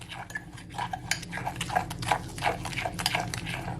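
A fork whisks cake batter in a bowl for a pineapple upside-down cake, giving quick rhythmic clinks and scrapes of metal against the bowl, close and steady throughout.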